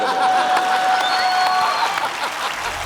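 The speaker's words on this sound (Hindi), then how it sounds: "अच्छा ये हो गई एंट्री वाली तालियां।" A studio audience at a comedy talk show applauds Shah Rukh Khan's entry, with loud, dense clapping from the start that eases slightly toward the end, and some faint chuckles mixed in.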